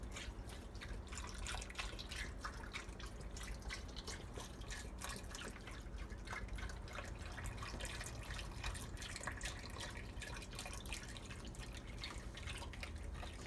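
Beef broth pours into a crockpot for beef stew, a soft continuous splashing trickle of liquid that stays faint and steady throughout with no voices.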